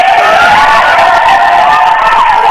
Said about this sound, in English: Studio audience, give this man a hand, man.